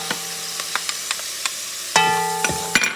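Spoon scraping through a pot of Puerto Rican shrimp and pigeon pea rice stew as olives are mixed in, a series of sharp clinks and scrapes with brief bright ringing hits, no voices.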